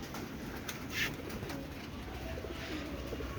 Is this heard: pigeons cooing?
yes